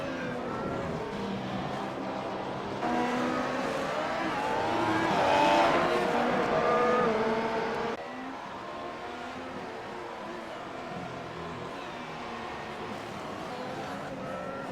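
Race car engine droning continuously at Twin Ring Motegi in the iRacing sim, rising to a louder, higher whine mid-clip before settling back to a steady background hum.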